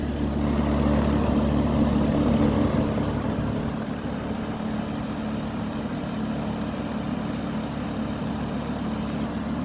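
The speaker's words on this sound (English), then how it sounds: "this has got an LG scroll compressor. Running in heat mode." Carrier Comfort heat pump from 2019 with an LG scroll compressor, running in heat mode outdoors: a steady, low mechanical hum and whir with broad fan noise, constant for the whole stretch, no talking.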